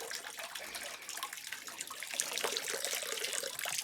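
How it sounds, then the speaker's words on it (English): Water drains steadily from a pipe to a bathroom through an opened relief valve after a new deep well pump hookup, a continuous rushing, hissing flow heard up close with no talking. "we'll open up the relief valve. And what that's going to do is that's going to drain all the water in the pipe to the bathroom."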